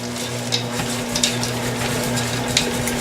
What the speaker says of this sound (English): I'm going to just mix that really quickly